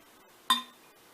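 Hard dehydrated marshmallows hitting a glass jar, a single sharp bright clink that rings out briefly in an otherwise quiet room.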